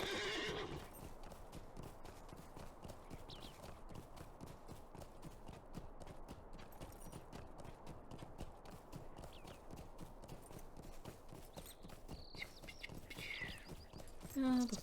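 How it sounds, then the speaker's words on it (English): In the Lord of the Rings Online game, a ridden horse's hooves clip-clop in a steady, rapid rhythm throughout, with a brief neigh near the start. Everything sits quietly at a low level. "We're going to take our horse there."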